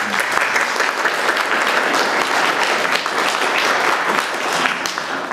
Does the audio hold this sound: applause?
yes